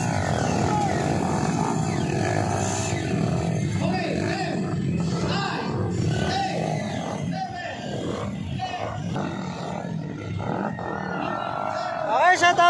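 Underbone motorcycle engines revving and buzzing at a motorcycle race in Kibalabag, Bukidnon, a rough, continuous drone mixed with crowd noise under steady live commentary.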